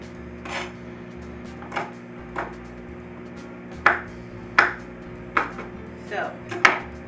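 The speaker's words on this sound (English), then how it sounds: "So we're going to use some fresh chopped garlic." Fresh garlic is chopped with a knife on a cutting board in a home kitchen, producing about nine sharp, close knocks at irregular intervals over a low steady background hum.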